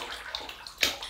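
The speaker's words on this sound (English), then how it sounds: "I remember to fill the sink and well ahead of myself" Water runs into a bathroom sink being filled for a wet shave, a soft, steady splashing hiss with a slightly louder splash near the end, fairly quiet and with no talking.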